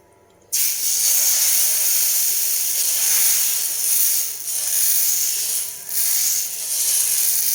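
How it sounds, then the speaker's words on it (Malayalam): Dosa batter poured onto a hot griddle, bursting into a loud, steady sizzle after a quiet start, the hiss dipping briefly a few times before surging back. "മാവ് ഒഴിച്ച് കൊടുക്കാം. ദോശക്കല്ല് ചൂടായിട്ടുണ്ട്."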